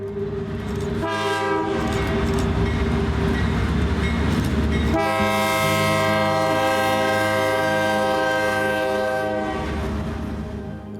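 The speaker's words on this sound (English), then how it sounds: "a BNSF grain train was approaching" A BNSF freight grain train rumbles past close by, its horn sounding long sustained blasts over the steady roar of rolling cars.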